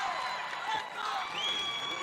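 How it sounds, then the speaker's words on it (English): A crowd cheers at a Henderson State volleyball match, a steady wash of distant voices and whoops at fairly low level, with no clear peaks. "Now the Henderson State crowd excited, cheering on the Reddies that time"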